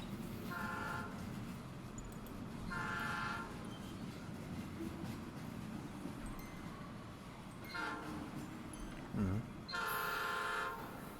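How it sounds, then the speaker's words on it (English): A train passes in the farming game The Stillness of the Wind, with repeated horn blasts spaced a few seconds apart over a continuous low rumble of the rolling cars. "There's a train."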